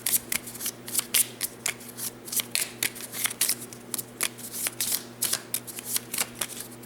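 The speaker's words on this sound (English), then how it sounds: "this goes back into the combat deck, and we shuffle it" A deck of board-game combat cards is shuffled during a solo turn of the wargame Enemy Action Kharkov: rapid crisp riffling bursts of card flicks, close and fairly quiet, repeating in an uneven rhythm for several seconds.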